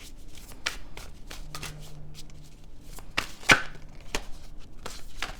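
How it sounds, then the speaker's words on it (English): Oversized tarot deck shuffled by hand at close range, a run of sharp papery taps and riffles with one louder slap in the middle and a faint low hum beneath. "A few more shuffles here."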